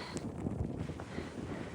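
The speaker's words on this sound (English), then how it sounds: "It's just so windy." Strong gusts buffet the microphone atop a lookout tower on a mountain along the Appalachian Trail, a steady low roar with rustling bursts, close and loud, no talking.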